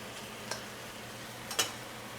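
Shrimp searing in a wok over high heat for Peruvian fried rice gives a soft, steady hiss. Two brief scraping clicks stand out, one early and one late, and no one speaks.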